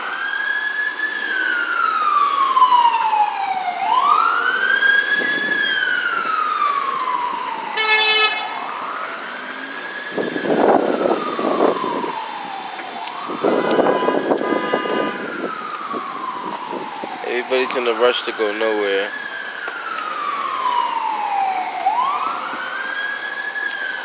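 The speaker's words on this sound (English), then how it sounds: "Now you got a fire truck going up there" A fire truck's wailing siren rises and falls repeatedly through congested Boston street traffic, loud and close, with horn toots and engine noise mixed in and a brief remark from a person nearby.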